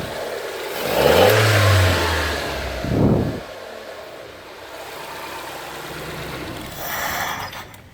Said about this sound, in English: start it, give it a rev